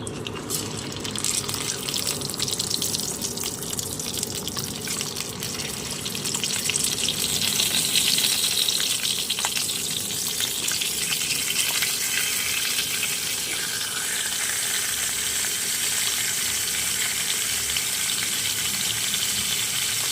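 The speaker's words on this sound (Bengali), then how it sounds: "একটা পাত্রে তেল গরম হতে দিয়ে দিয়েছি এবারে মাছের মাথাগুলো ভেজে নেবো" Fish heads frying in hot oil in a pan, meant for a moong dal dish, a continuous dense sizzle that swells midway and stays steady, alone without voices.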